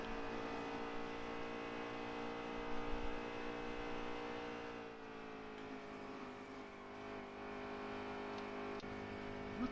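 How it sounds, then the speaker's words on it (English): A race truck engine roars at Pocono during the Gander Outdoors 150, a steady, droning, tonal engine note heard from outside, fairly distant and faint, with a slight shift in pitch midway. "I'm tired of hearing the outside of that engine"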